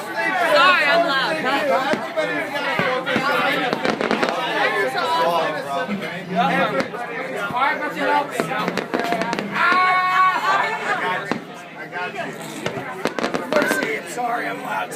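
Firework mortars burst over a beach during Fourth of July celebrations, sounding as repeated pops and crackles beneath nearby loud chatter and laughter from a crowd.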